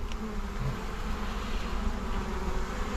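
A honeybee swarm being captured from a tree buzzes steadily at close range, a dense continuous hum of many wings with no voices over it.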